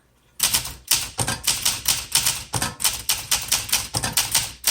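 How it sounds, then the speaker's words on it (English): Typing on a 1965 Olympia SM8 manual typewriter, with rapid, steady, close and loud keystrikes and a few brief pauses between bursts. No one speaks. "these keys are easy to type on"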